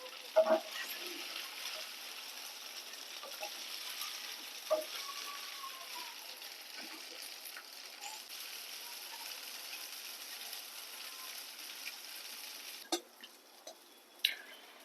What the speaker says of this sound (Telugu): ఆయిల్ వేడెక్కాక మనం కట్ చేసుకున్న ఇడ్లీ ముక్కలు వేసి ఫ్రై చేసుకోవాలి